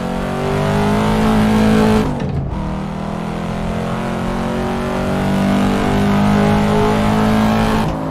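A powerful race car in the Assetto Corsa driving game roars loudly, its engine revving and accelerating with a brief dip around a gear change before climbing again, continuous and close without talk.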